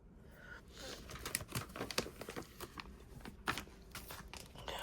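A rose gold foil sticker sheet crinkles and rustles as it is handled, with soft, irregular crackles and taps close by in a quiet room.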